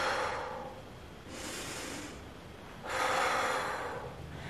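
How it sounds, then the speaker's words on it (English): A person sits breathing slowly in and out in a diaphragm mobilisation exercise: two long airy breaths, each a soft rushing sound of a second or more, close to the microphone with no speech. "So you are just sitting there breathing in and out"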